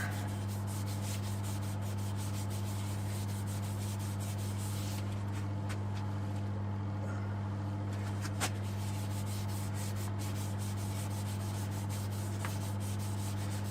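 Hand polishing of a turned black bean wood bowl with Yorkshire Grit abrasive paste: a faint, continuous rubbing hiss over a steady low machine hum, likely the lathe.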